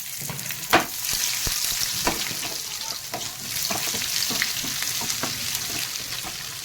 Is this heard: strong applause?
no